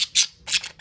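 A pet budgie squawks in a few sharp, shrill bursts close by, with short gaps between calls and no talking.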